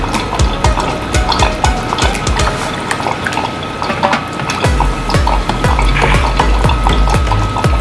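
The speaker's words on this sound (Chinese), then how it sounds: "熬水20ml，倒到喷瓶里面" About 20 ml of water pours into a small spray bottle, a close, loud continuous trickle and gurgle with rising fill tones, no voices.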